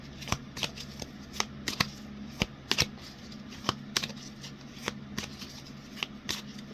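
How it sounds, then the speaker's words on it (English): Tarot cards being shuffled and drawn, with sharp crisp riffles and card snaps in an irregular rhythm close by, over a quiet background and no speech. "Let's keep drawing the tarot and see what happens here"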